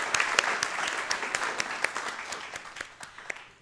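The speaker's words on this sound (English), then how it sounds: "Let's give them another round of applause" A city council meeting audience applauds the fire department. The clapping is crisp and moderately close, with distinct sharp claps standing out, and it fades over a few seconds.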